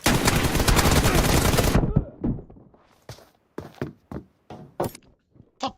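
M4 rifle fire in a video game: a loud sustained automatic burst for about two seconds, followed by several sharp, separate single shots and thuds spaced out across the rest of the clip.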